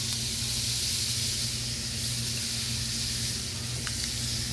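Butter hissing and sizzling in a hot pan, a dense continuous sizzle held close and loud throughout, with no talking over it.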